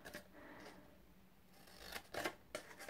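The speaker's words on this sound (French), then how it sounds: "Je coupe tout simplement depuis le bord jusqu'au premier pli qui se trouve dans ce sens-ci." Scissors snip through thin patterned design paper, cutting from the edge to the first fold for a small treasure box; a few quiet, close snipping bursts separated by pauses, with no talk.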